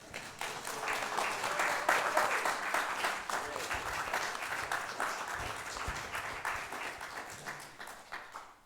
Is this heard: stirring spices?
no